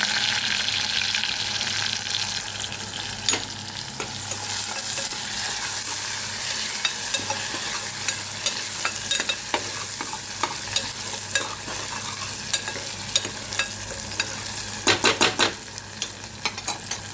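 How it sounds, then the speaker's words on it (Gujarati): Onion and tomato sautéing in a pan: a steady, close sizzle runs throughout, with frequent clinks and scrapes of a spoon stirring, and a brief flurry of louder scraping near the end. "ડુંગળી ટામેટા આપણું સંતળાઈ ગયું છે."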